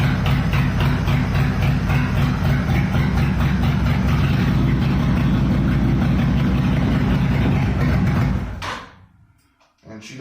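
A Honda VTX motorcycle engine idles after a cold start, a loud, continuous close rumble with a little throttle added, then it suddenly cuts out near the end and goes quiet.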